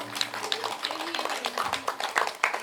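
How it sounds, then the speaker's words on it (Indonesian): An audience claps for children at a book launch, a modest patter of hands under a soft background voice, fairly close and lasting a couple of seconds. "Tepuk tangan dulu dong untuk anak-anak kita."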